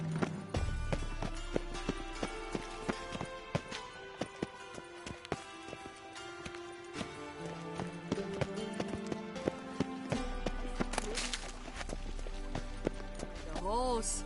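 Horse hooves clip-clop at a gallop in The Witcher 3, a steady rhythmic patter layered under game music and a voice talking over it.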